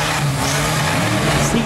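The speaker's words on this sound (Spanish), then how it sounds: "Sigue acelerando el Hellboy, el D-Max." A D-Max race car accelerates hard at a four-cylinder rally stage, its engine note loud and close with a steady throaty drone that rises slightly toward the end.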